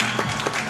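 Applause from a studio audience at a Pakistani cricket talk show, a brief burst of dense clapping lasting under a second, close and fairly loud.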